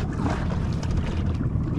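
A fishing boat's engine runs at sea during a skipjack tuna trip, giving a steady, loud low rumble with wind noise and no pauses.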